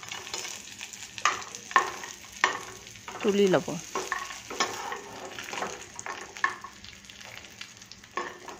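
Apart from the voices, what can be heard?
cashews and raisins frying in ghee in a wok, stirred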